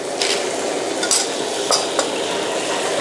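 Three spoonfuls of coconut cream stir-fried in a pan give off a soft continuous sizzle, broken by a few sharp clicks and scrapes of a utensil against the metal.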